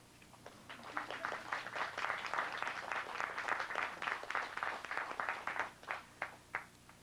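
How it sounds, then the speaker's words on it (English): Sustained audience applause at a 2005 Palo Alto city council candidate forum, steady clapping from a roomful of people for about seven seconds, tapering into a few scattered claps at the end. "Now you can applaud."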